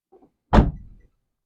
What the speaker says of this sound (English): Oh, it closed beautifully.